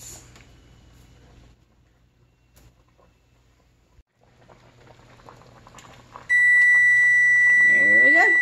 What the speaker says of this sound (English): So I'm going to set the timer for 3 minutes.